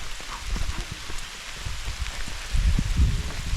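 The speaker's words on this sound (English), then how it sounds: "Uh-oh, I'm feeling some hail." Rain and hail fall in the Utah mountains, a steady close patter of drops with scattered sharper taps and thuds that grow heavier toward the end.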